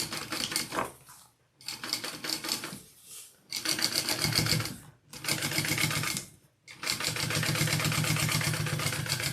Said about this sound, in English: And then top stitch down the rest with the seam going that way